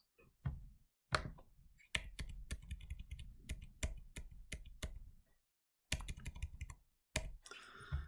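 Bursts of keyboard typing while coding a 2D-array image exercise in Java, including a Control-X cut, with rapid close clicks in clusters separated by brief pauses, no talking.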